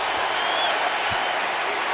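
A stadium crowd at an Indianapolis Colts home game against the Seahawks roars and claps in a dense, unbroken wash of sound that holds steady and loud throughout.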